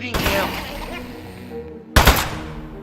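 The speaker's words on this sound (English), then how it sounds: "Keep shooting him." Gunfire in a video game aimed at a clay enemy comes as a dense, loud stream of shots under game noise, pausing briefly before another sharp, heavy burst.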